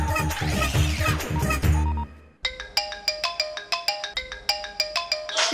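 A phone ringtone plays a bright, repeating electronic melody of short chiming notes, following a brief burst of busy sound that ends abruptly.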